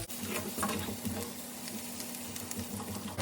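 Beef stroganoff ingredients cook in a pan, giving a steady, close sizzle with soft crackling and a low hum, no talking.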